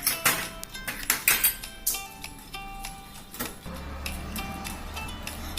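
Quick clinks and scrapes of a spoon against a bowl while stirring macaroni raita with sugar and sauce, a close rhythmic burst that eases into a quieter background hum.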